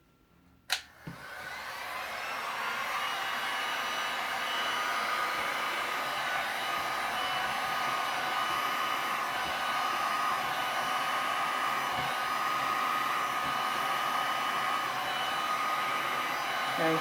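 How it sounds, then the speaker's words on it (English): A heat gun switches on with a click and blows a loud, steady whooshing stream of hot air across resin poured on a wood panel, running continuously at close range with no talking. "now I'm going to get the heat gun on it"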